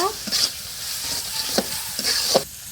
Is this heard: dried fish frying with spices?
yes